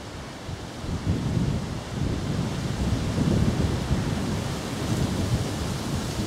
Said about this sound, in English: Wind's picking up, perhaps an indicator that rain is coming.